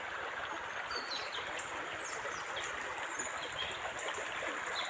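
Steady rushing stream water in a canyon fills the scene, with thin bird chirps and whistles scattered faintly above the flow.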